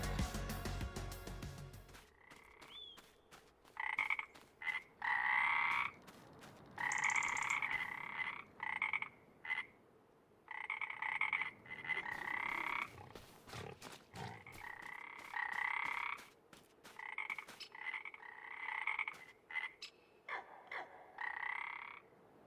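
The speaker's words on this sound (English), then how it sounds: "The crickets and the frogs and whatnot." A steady chorus of frogs croaking and crickets chirping in a Farming Simulator 25 game night scene, pulsing in overlapping bursts and continuing alone without talk for about twenty seconds.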